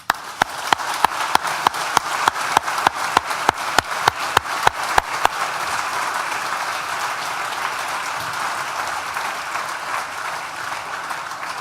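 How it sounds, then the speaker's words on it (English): Graduation ceremony audience for the School of Arts and Humanities breaks into broad applause, sharp rhythmic claps cutting through at first before settling into a dense, sustained wash of clapping that carries on steadily to the end. "please join me once again for a big collective round of applause."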